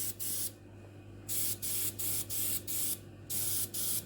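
Aerosol spray dusting over a model build of HMS Queen Elizabeth, heard as about seven short hissing bursts in a steady rhythm, close and fairly loud, with a low hum underneath and no talk.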